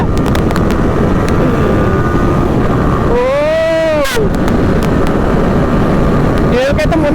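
A KTM Duke 200 and a Yamaha R15 V3 race side by side in a drag run, engines screaming through hard upshifts with rising whines under heavy wind buffeting, while a rider talks over the noise.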